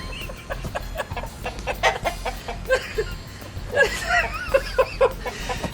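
Chickens cluck and murmur close by in a farmyard, a scattered run of short squawks and calls that grows busier toward the end.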